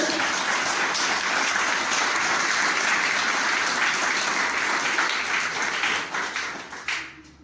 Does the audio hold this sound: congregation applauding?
yes